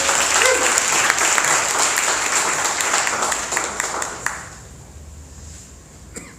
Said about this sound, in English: So please make some noise and welcome up on stage, Style Seller.